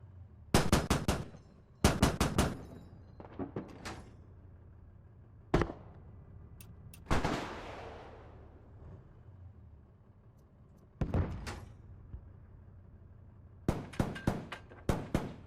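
BMP-1TS autocannon and ATGM launcher turret firing in Squad, sharp, loud bursts of cannon shots in short clustered volleys, with one longer whooshing launch, separated by quiet gaps.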